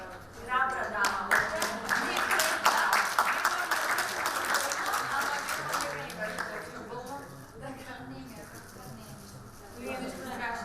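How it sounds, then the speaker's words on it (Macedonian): An audience at a presentation on lip filler treatment breaks into sustained, loud applause for a brave woman, the clapping slowly fading while people speak over it. "сакам да дадеме еден огромен аплауз за оваа храбра дама"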